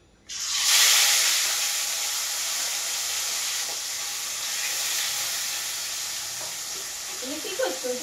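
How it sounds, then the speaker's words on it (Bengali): Gorai fish drops into hot oil with a sudden loud burst of sizzling that settles into a steady frying hiss, with a few utensil clinks near the end. "পটল আলু ভাজা হয়ে গেছে এবার আমি মাছ ভাজবো"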